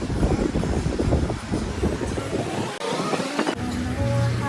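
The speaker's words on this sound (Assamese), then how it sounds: "বতাহ একদম মাৰি থাকে" Seaside wind on a Krabi island tour in Thailand, a loud blustery roar buffeting the microphone with surf-like rushes, briefly dropping out before gusting again.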